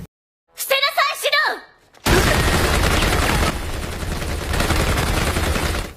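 Anime gunfire from troops opening up in Date A Live: a burst of dense, continuous rapid shooting fills the last four seconds, loud and sustained, after a brief stretch of high-pitched anime character speech.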